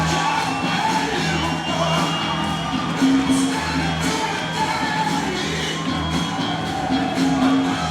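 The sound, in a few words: crowd cheering at fight entrances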